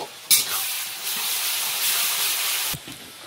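Rice and ginger-garlic paste fry in a pot for biryani, giving a loud, steady hiss and sizzle with a sharp clatter near the start and a break near the end.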